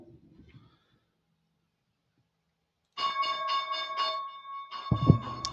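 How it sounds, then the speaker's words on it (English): Stock market opening bell ringing for several seconds, a sustained loud metallic clang that begins after a short silence. "There is the bell."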